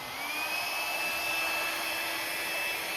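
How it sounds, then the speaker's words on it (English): A blow dryer runs continuously and close by, pushing liquid acrylic paint across a large canvas. The airflow makes a steady, even whooshing hiss with a faint high motor whine, and there is no talking. "I use a blow dryer to paint."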